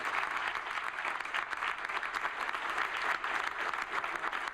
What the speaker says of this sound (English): and they all stood up and clapped